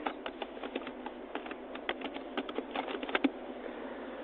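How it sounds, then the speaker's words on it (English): Steady rapid typing on a computer keyboard, entering words into a document, with crisp irregular key clicks and occasional louder keystrokes close by, no talking. "you type sustainability"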